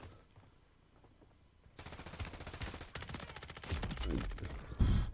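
Gunfire in the Resurgence video game starts faint, then loud, rapid automatic bursts crackle in quick succession over the last few seconds.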